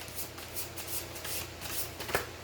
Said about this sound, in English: So I'm going to go ahead and shuffle the cards.